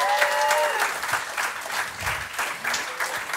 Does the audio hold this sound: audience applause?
yes